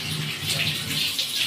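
Water pours steadily into a pressure cooker holding mutton curry, a soft continuous splashing stream close by and fairly quiet, with no talk.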